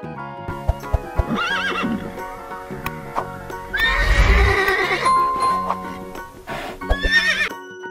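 Horses neighing and whinnying in several loud calls, mixed with scattered clip-clop hoof steps and sharp knocks, close and clear.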